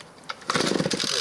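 Stihl FS 51 string trimmer with a temperamental carburettor, its small two-stroke engine sputtering briefly then catching into a loud, rough, uneven run close by.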